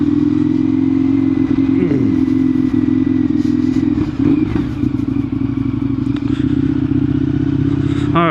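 A Indian FTR 1200 Rally motorcycle being ridden, its engine droning steadily and loud up close throughout, with wind rush, a few clattering thumps and light scrapes over the steady rumble.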